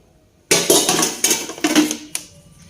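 A metal kitchen pot for cooking curry is handled, producing a close burst of clattering, ringing knocks and scrapes over about two seconds, ending in one last sharp clink.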